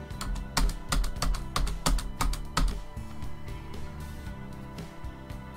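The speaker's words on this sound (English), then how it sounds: "Hit the Enter key 8 more times to lower the insertion point 8 more spaces" Computer keyboard keys pressed in a quick series of sharp, close clicks, with several louder presses of the Enter key standing out, then a softer patter of typing.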